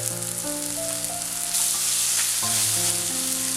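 Spice masala frying in oil sizzles loudly and steadily as yogurt is added and stirred in, with a brief surge in hissing partway through and faint clinks from a utensil.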